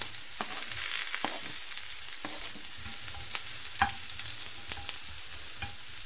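Mushrooms sizzle steadily in a hot frying pan, a continuous crackle broken by sharp clicks and scrapes as the pieces are turned over, close and moderately loud with no talking.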